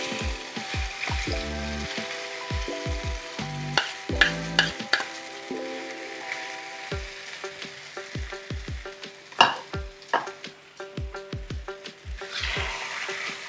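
Green peas frying with asafoetida in a wok for a kochuri filling: a steady low sizzle broken by repeated scraping and stirring strokes, with some ringing clinks from the utensil.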